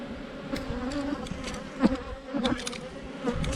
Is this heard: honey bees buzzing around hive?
yes